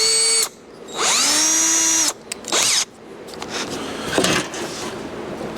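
A power drill whines up in short bursts while cutting a rear fender mount on an XLCH chopper, with a longer sustained run, a brief spin-up and later clatter and handling noise, close and fairly loud.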